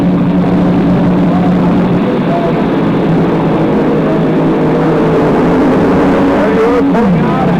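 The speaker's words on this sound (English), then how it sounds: "A lot of the engines have been modified, the aluminum engine becoming very, very popular." Nitromethane-fuelled drag racing engines with modified aluminum blocks roar at an NHRA Winter Nationals event, a dense, sustained rumble heard from a distance under a commentator's steady narration.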